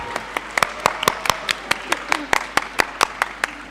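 Audience at a school inter-school debate award ceremony claps in distinct, fairly sparse sharp claps with a steady rhythm, sounding like a modest group nearby, with no talk over it.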